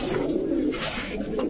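A Teddy pigeon coos close by, giving low throaty burbling calls that roll on in a continuous murmur, with light background rustle and no talking.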